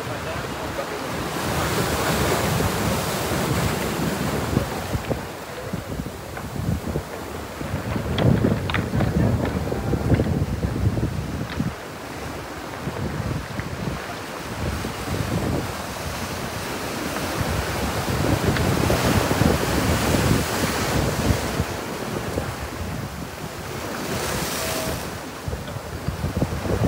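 Ocean waves crash and wash continuously on a south coast beach, a loud, close roar of surf swelling and easing over half a minute, mixed with gusty wind buffeting the microphone.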